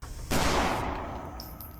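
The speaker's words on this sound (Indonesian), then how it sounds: "Dan ternyata peluru Babulah yang berhasil menembak dada Bihari." A single revolver gunshot in a dramatic film scene, a loud close blast with a long ringing decay and no voices.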